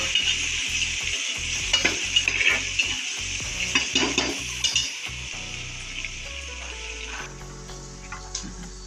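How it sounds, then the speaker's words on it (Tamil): Onions and curry leaves sizzle in a hot pan while a spoon stirs and clinks against the metal with irregular scraping taps, up close, with the frying hiss steady throughout. "வெங்காயம், கருவேப்பிலை போட்டு நல்லா பரட்டிடலாம்."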